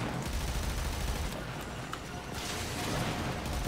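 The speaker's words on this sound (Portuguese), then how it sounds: "posso meter bala aqui com a arma" Dense, continuous weapon fire in Warframe, a steady roaring fusillade of rapid shots that stays loud and close throughout with no pauses.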